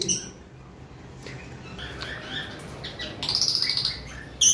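Caged pet birds at a bird sale give scattered high chirps, then a quick burst of twittering near the end, over a steady low background murmur.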